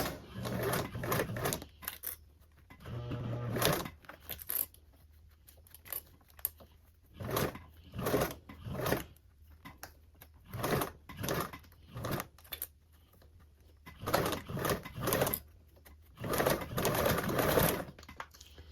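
Sewing machine stitching zipper tape around a curve on a toiletry bag, running in short bursts of rapid whirring stitches separated by quiet pauses, close and fairly soft.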